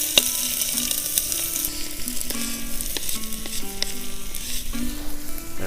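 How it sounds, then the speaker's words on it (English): Chopped onion frying in hot oil in a camp pot for green chile potato stew, a close, steady sizzle with occasional clinks and stirring scrapes, no talking. "Alright, time to place the onion first."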